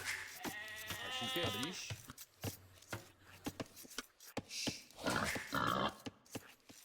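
Sheep bleat in an Age of Empires match, a wavering call near the start and another later, mixed in with clicks and small game sounds, fairly faint overall.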